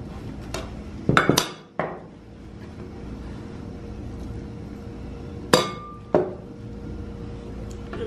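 Chickpeas tipped into a bowl for chana chaat: a quick cluster of clinks and knocks against the dish, a lull with low background noise, then two more bright clatters near the end.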